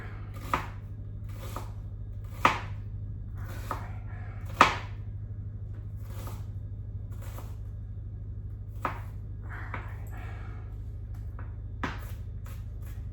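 Knife chopping onion on a cutting board for chili, as a blind cook minces it: sparse, irregular sharp taps spaced across the stretch, a few louder strikes, over a steady low hum with no talking.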